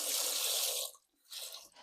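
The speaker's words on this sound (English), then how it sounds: "Then put in about half the volume again of water." Tap water runs into a pan for making sloe ink, a bright hissing stream that stops briefly and then starts again, close and clear.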